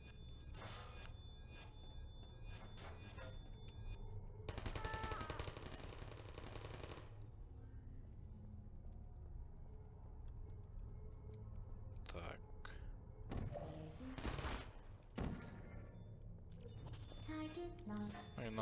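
Bursts of gunfire aimed at the player in Portal 2, rapid crackling volleys in two main spells separated by quieter gaps, heard faintly alongside soft talk.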